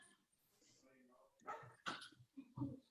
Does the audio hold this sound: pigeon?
no